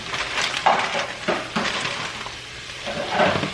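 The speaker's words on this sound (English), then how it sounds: "And then I'm going to start adding the green beans to this pot here." Green beans tumble into a pot with rustling clatters and a faint sizzle, several scattered bursts close by, without any talking.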